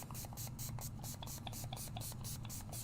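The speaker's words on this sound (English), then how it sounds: "I'm going to grab my Hydrangea Matte Mist, and I'm going to spray it pretty liberally." Brutus Monroe Hydrangea Matte Mist sprayed liberally from a pump bottle, a rapid run of short, soft hissing spritzes in a steady rhythm, close and quiet over a low background hum.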